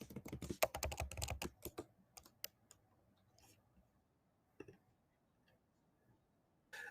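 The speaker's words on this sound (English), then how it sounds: "Agus, do you manage to see any typing besides all your typing, which was great?" Fingers tap rapidly on a computer keyboard in a burst of close, clicky keystrokes, then slow to scattered isolated taps with quiet gaps between them.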